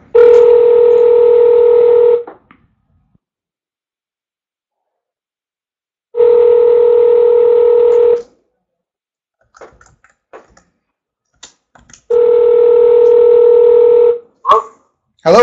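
A phone line rings out while placing a call, three long steady beeping tones of about two seconds each, spaced by silences, loud and close, with faint clicks and brief sounds after the last.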